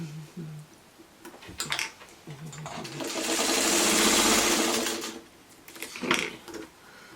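A sewing machine stitches a quilt block, first with short bursts and clicks, then one sustained whirring run of about two seconds, followed by a few quieter clicks.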